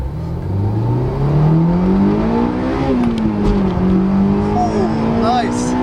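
A Honda S2000 with a rebuilt F20C engine accelerates hard, the loud engine tone climbing steadily in pitch, dipping briefly at a shift, then rising again.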